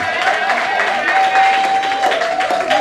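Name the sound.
audience clapping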